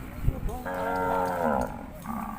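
Cattle low at a Thai livestock market, one long drawn-out moo with a harmonic-rich tone near and loud, falling away near the end over a noisy crowd backdrop.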